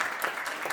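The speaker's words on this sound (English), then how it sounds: "So let's give them a round of applause." Audience applause at an evening Republican club meeting, a steady, dense patter of many hands clapping from start to end, moderately loud and even, with no voices on top.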